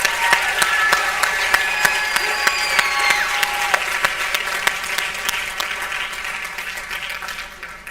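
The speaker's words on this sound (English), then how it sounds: "Let's give them all one final round of applause" A pageant audience applauds the contestants at a festival pageant, a sustained, dense wash of clapping that stays loud for the whole stretch and eases slightly toward the end, with a few sharper individual claps standing out.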